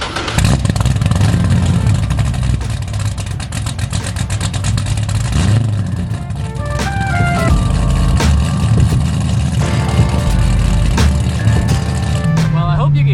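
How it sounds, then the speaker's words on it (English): A straight-piped Corvette Z06 drones loudly with a deep, steady exhaust hum while driving, its pitch rising and shifting as the engine revs, with clatter and cabin noise mixed in throughout. "the exhaust and the drone in this car is crazy"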